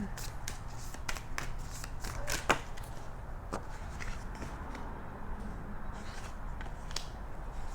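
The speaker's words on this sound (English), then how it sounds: "So I'm just going to pull a few cards, just a few tonight." Oracle cards shuffled and pulled by hand, giving soft, close taps and slides in an uneven rhythm over a steady background hiss, with one sharper snap partway through.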